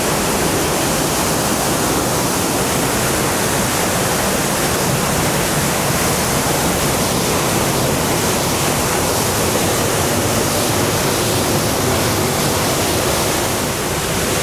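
Sera Ella, a wide waterfall in Sri Lanka, crashing down in a loud, unbroken roar of falling water that stays dense and constant throughout, with no voices.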